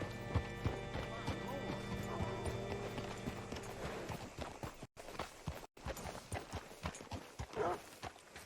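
Rhythmic clip-clop of horse hooves walking in the video game Red Dead Redemption, close and steady, with music and a voice speaking underneath.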